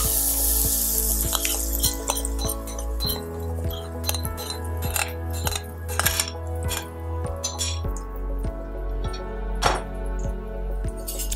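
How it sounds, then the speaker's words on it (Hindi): Hot oil tempering for Rajasthani gatte ki sabji hisses and crackles in a kadhai while metal utensils clink and scrape repeatedly against it, close up and busy, with no talking. "उसके बाद जो ये तड़का बनाया है आपने, इसमें डाल दीजिए कढ़ाई में।"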